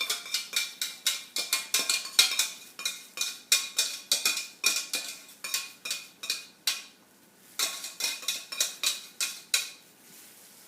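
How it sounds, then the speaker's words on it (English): Homemade spicy kimchi ingredients being mixed together in a bowl, a fast, regular run of wet, scraping strokes, close and fairly loud, pausing briefly near the end. "we're going to mix that all together."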